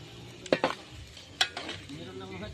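Pig fat rendering into lard and chicharon bulaklak crackles in a pan, with a few sharp stirring clatters and spitting bursts over a steady low sizzle, close by.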